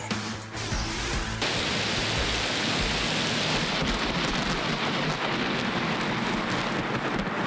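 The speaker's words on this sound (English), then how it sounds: "storms brought rolling thunder and flashes of lightning across southeast Texas" A thunderstorm over southeast Texas, with heavy rain pouring steadily and loudly throughout and a deep rumble of rolling thunder beneath it, no voices.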